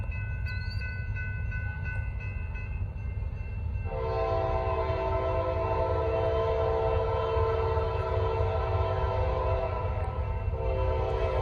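Norfolk Southern southbound train 241 led by two locomotives in Gaffney, South Carolina, rumbling loudly past with a sustained multi-tone horn blast that sounds twice, steady heavy roar throughout.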